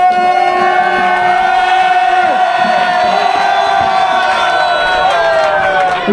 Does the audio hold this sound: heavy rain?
no